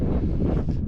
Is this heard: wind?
yes